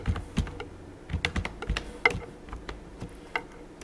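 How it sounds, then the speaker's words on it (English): Keys clatter on a computer keyboard in short, irregular bursts of clicks, close and fairly quiet, with no talking. "now I can type here"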